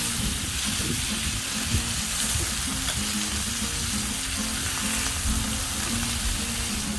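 Pickle-juice-brined chicken pieces frying after being turned for a spicy chicken sandwich, a loud, dense, unbroken crackling sizzle of hot oil, close up and steady throughout without speech.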